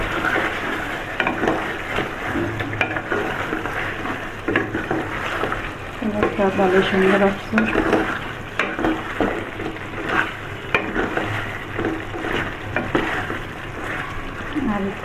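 Chicken pieces sizzle and fry in a pan while being stirred, a steady close hiss with scraping strokes of a spoon, and someone speaks briefly over the cooking.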